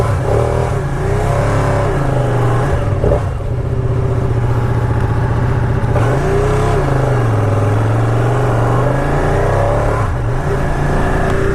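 A 2018 Ducati Panigale 959 Corse engine rumbles and revs loudly and steadily while pulling away, with rising and falling pitch sweeps as the bike rides off.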